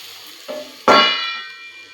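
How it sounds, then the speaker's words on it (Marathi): A lid clanks down onto a pan of okra masala, a faint tap followed by a sharp metallic clang that rings and fades over a soft background sizzle. "इथं 2 मिनिटं झाकून ठेवूया."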